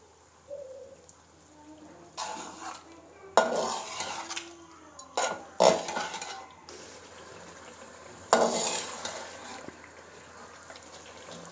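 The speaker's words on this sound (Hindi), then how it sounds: "अब फ्लेम ऑफ करके दही ऐड कर देनी और उसे अच्छे तरीके से मिक्स करना है" Yogurt being stirred into Peshawari charsi karahi in a pan with the flame off, in several bursts of scraping and clinking of utensil against metal, fairly close, with quiet pauses between.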